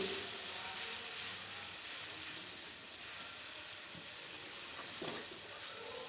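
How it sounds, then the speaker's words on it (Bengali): Spices with turmeric and salt sizzling in oil in a pan for dal with egg, a faint, even hiss throughout with a couple of soft stirring scrapes, no talking. "দেখো ভাজাটা প্রায় হয়ে গেল মশলাটা থেকে তেল ছাড়তে শুরু করলো"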